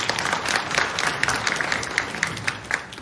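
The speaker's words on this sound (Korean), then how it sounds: "박수로 맞이해 주시기 바랍니다." Attendees at a Seoul apartment redevelopment briefing applaud to welcome a local National Assembly member, with fairly close, crisp individual claps standing out over a steady crowd patter.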